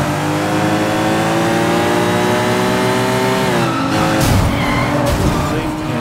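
A car driven in the open-world action game Sleeping Dogs, its engine droning steadily and shifting pitch as it accelerates, with tire noise and a brief skid-like burst near the end.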